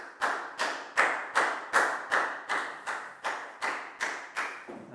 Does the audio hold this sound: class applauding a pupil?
yes